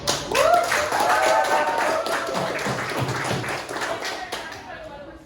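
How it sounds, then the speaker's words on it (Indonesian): Students clapping in a school classroom guidance session, a burst of close, fairly loud hand claps that tapers off over several seconds, with voices and chatter mixed in. "kasih tepuk tangan paling meriah"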